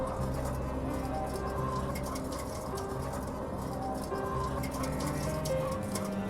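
Overcrowded caged egg-laying chickens fill a confined shed with a dense, continuous murmur of clucks and calls, steady and moderately loud throughout, with no talking.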